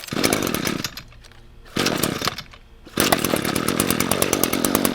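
Gas string trimmer fitted with an edger attachment, a loud buzzing two-stroke engine revving in bursts with brief drops to idle between, close up and with no talking.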